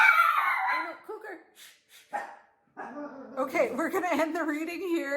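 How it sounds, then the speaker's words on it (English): A dog barking at a front door from another room, heard as faint yips and barks between and beneath close speech by a woman reading aloud. "The dog's going crazy at the front door."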